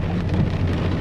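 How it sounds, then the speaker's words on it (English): Steady rain falling outdoors, a dense, even hiss with low rumbling underneath that holds at a constant level for the whole second, with no voices. "This rain is pretty"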